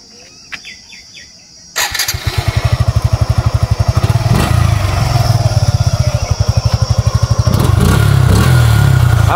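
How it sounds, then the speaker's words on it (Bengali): A second motorcycle's engine is started and then runs with a steady, rapid, loud exhaust thump close by. Faint bird chirps are heard before the engine starts. "এরপরে আমরা আমার লেফট সাইডের বাইকের সাউন্ডটা দেখাবো।"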